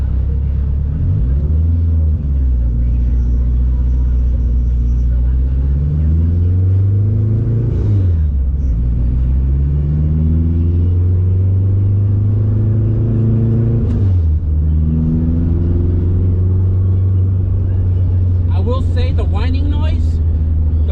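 A 600hp turbocharged K20-powered all-wheel-drive Honda Civic drives with a loud, steady engine drone that repeatedly swells and falls through gear changes, with a faint chirp near the end.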